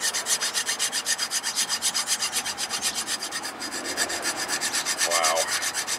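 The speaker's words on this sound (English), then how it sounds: "So now we're going to take the piston, clean all of this yuck up." A brake caliper piston from a 2007 Nissan Altima being cleaned, heard as a fast, steady back-and-forth rubbing scrub, close and continuous, with a brief squeak near the end.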